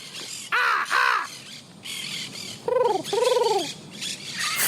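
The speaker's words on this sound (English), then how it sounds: "Oh, and there's a doves, crackles, and domestic parrots." Domestic parrots squawking outdoors, giving loud, harsh calls in two paired bursts separated by short pauses, close by and without talk.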